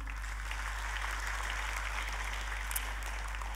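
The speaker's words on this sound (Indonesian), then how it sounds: "Boleh kita kasih tepuk tangan?" Congregation applause during a church sermon, a soft, steady wash of clapping heard at a distance over a constant low electrical hum.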